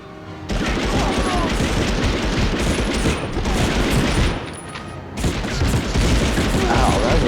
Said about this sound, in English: Very powerful gun you're hitting me with